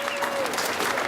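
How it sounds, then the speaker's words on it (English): Audience applause at a Skeeter bass fishing tournament weigh-in, a short burst of steady, dense clapping from the crowd. "A round of applause showing to us"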